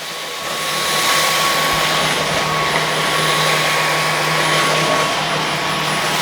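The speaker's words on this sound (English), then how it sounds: "Now the vacuum cleaner will kick on." A Dyson V15s Detect Submarine wet-dry vacuum cleaner spins up and runs steadily on medium, a loud continuous whine and rush of air close by with no talk.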